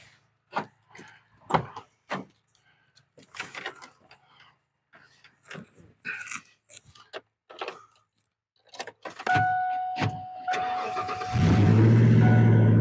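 A Ford E-150 Club Wagon van's engine cranks for a couple of seconds and then catches, settling into a loud, steady running roar. Scattered clicks and knocks come before it.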